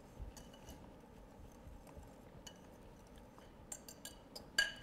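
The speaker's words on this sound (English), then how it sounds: "Whisk that together so it's nice and blended." A whisk stirs baking powder, salt and other dry ingredients together in a bowl for apple cornbread, mostly quiet with a few light metallic clinks clustered toward the end.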